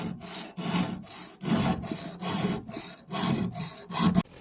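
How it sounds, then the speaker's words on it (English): Rhythmic rasping strokes of a file sharpening a chainsaw chain, about seven firm back-and-forth passes in a steady cadence, close and fairly loud with no talking. "Let's sharpen the saw."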